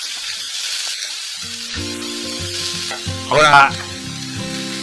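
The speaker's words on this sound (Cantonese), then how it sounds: "就可以倒啲乾葱頭粒、蒜頭粒同埋薑片落去鑊度煎下佢，爆香佢，炒下佢，兜下佢，" Shallots, garlic and ginger fry in a hot wok with a steady sizzle, swelling briefly into a louder burst near the end, while a soft tonal hum runs underneath and a voice speaks briefly.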